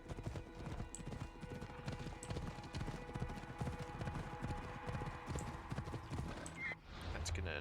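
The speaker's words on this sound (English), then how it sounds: "I've never seen a horse walk in this game." Horse hooves clip-clop at a steady walking pace in Assassin's Creed Odyssey, with an occasional whinny and a continuous game soundtrack underneath.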